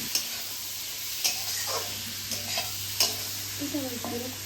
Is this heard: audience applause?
no